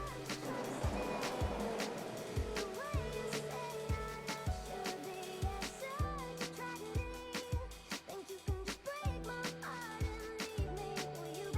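A Formula 1 car in the F1 2014 racing game rolls slowly into the pits at the Canadian Grand Prix, its engine giving a rhythmic, repeated low pulse at idle pace with overlapping clicks and whines on top.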